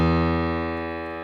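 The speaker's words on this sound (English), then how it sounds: "Just a single note on a piano, but just hit with a lot of attack." One piano note struck hard, with a rich stack of sustained harmonics that ring out and slowly fade over a little more than a second, heard alone.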